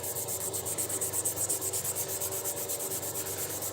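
A sanding pad is rubbed over a surface in quick back-and-forth strokes, about two passes a second, giving a close, rhythmic, hissing scrape with no speech.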